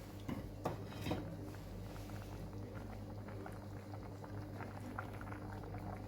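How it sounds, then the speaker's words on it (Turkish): Turkish four-spoon soup boiling in a pot, with a steady low bubbling hiss, faint occasional clinks of pot or utensil near the start, quiet and close with no talk. "Çorbamız kaynamaya başladı."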